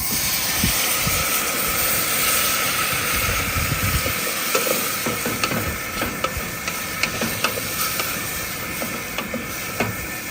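A whole small sampler bottle of Chardonnay wine goes into a one-pot risotto cooking outdoors at a lake on a cold summer night, giving a loud steady hiss and sizzle with scattered clicks and bubbling as the liquid hits the hot pot.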